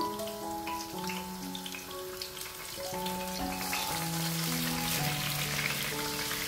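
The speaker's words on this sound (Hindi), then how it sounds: "ये देसी घी गर्म हो चुका है। अब इसमें हम प्याज शामिल कर देंगे।" Onions frying in hot desi ghee for a masoor dal tarka, a steady hiss and sizzle that swells partway through, heard under background music with no talking.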